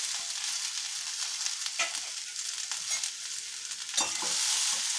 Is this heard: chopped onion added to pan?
yes